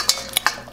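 Thai glass noodle salad with large prawns being tossed in a bowl, a few quick clicks and scrapes of utensils in a short burst, close and without talk.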